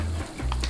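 Sizzle of food frying in the Overcooked video game on Xbox One, a short steady hiss with a couple of light clinks, close and continuous, no voices.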